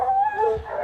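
A dog howls in a single loud, close, wavering tone, brief and alone without talk.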